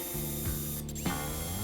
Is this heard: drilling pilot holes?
yes